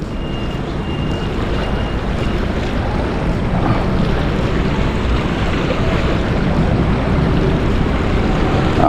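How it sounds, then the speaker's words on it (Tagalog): Seawater rushes in with the high tide among rocks, a loud, continuous broadband roar of flowing water mixed with wind buffeting, steady throughout with no talk. "yung papasok na tubig galing po yan sa dagat dahil pa high tide na"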